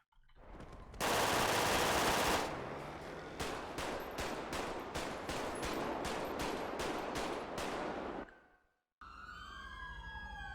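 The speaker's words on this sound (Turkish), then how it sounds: "Silah seslerini duyuyorum." In a video game, a loud burst of noise gives way to a rapid string of about a dozen gunshots in quick rhythm, then a short pause and a wailing siren.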